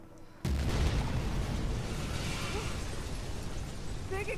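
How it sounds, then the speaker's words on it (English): A large explosion in the video game Mirror's Edge Catalyst begins with a sudden boom and becomes a loud, sustained rumbling roar that fills the scene until the end. "Big explosion over here."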